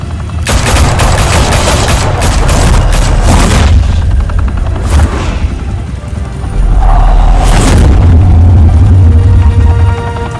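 Heavy sustained gunfire in a firefight from Batman: The Telltale Series, loud bursts of shots with booming impacts and rumbling low end, continuing throughout with no talk.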